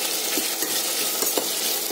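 Onion, ginger and garlic sizzle steadily in hot oil, a continuous bright frying hiss with faint occasional stirring clicks, close and moderately loud.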